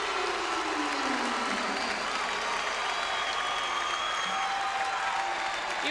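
Crowd at a 1989 Nebraska vs. Hawaii college volleyball match cheering and applauding in a gym, a dense continuous roar of clapping and shouts throughout.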